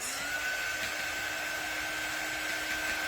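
A hair dryer blows steadily to dry wet paste on a craft magnet, a close, constant whirring hum with a thin high whine and no pauses.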